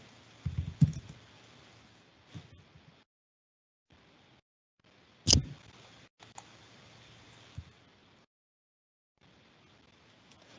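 Keyboard typing on a computer in a quiet room while entering a Unix command: a few sparse, separate clicks and taps with pauses between them, close to the microphone, with no talking.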